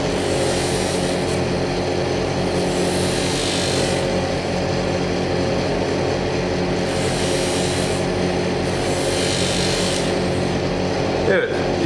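Continuous rubbing and scraping of fine sanding on a prayer bead with 2000-grit sandpaper, steady and close throughout, with no pauses and a constant hum underneath.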